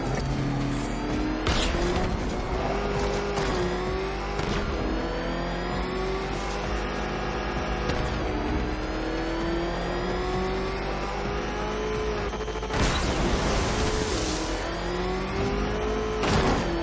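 A vehicle engine in the Batman Arkham Knight video game revs continuously, its pitch rising and falling through gear-like sweeps, loud and steady for the whole stretch, with a few sharper bursts and no talk.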